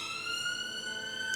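A siren sounds outside on a city street, its steady tones held continuously at moderate level for the whole stretch with no voices.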